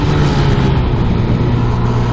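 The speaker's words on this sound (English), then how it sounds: "Slow ass scooter." A slow scooter engine passes close by, a steady loud mid-pitched drone with a low hum running through the whole stretch.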